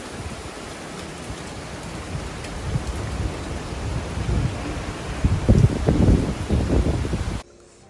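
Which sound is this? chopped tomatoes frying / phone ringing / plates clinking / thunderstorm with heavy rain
thunderstorm with heavy rain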